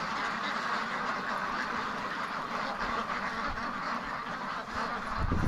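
A flock of free-range ducks kept in a winter weather lockdown, quacking steadily and overlapping in a busy, close chorus that never pauses, with no voices over it.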